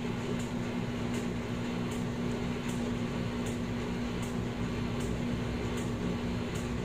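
A Wisemom pocket breast pump runs in massage mode, a steady motor hum with a regular series of faint rhythmic suction clicks repeating roughly every half second, close and constant.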